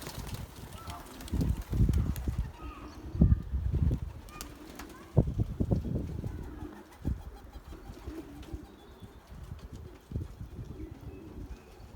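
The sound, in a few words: racing pigeons leaving aviary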